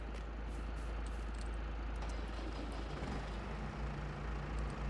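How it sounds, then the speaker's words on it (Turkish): Tractor engine in Farming Simulator 22, a steady low idling drone that runs unbroken and fairly loud the whole time, with no voices over it. "Ama önce şu traktörü bir yerleştireyim."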